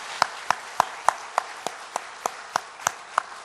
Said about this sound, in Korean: 다시 한번 하나님께 영광의 박수 우리 대형에게